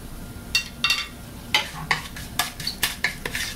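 Mustard seeds and cumin crackling in hot oil for tempering a zucchini raita: sharp popping bursts over a continuous sizzle, close and irregular, with a spoon scraping the pan.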